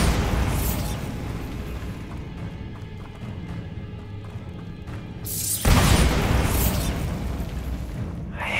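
The Bombarda spell detonates in Hogwarts Legacy while clearing a spider nest, a heavy booming blast that erupts suddenly and rumbles on over a low ambient roar, loud and close.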